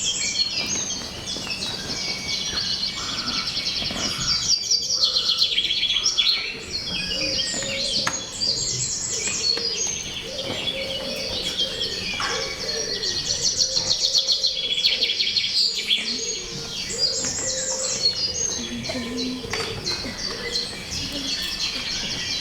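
A secret gathering of many birds chirping and tweeting at once, a dense, continuous chorus of calls close by, with faint insect-like buzzing beneath and no talking.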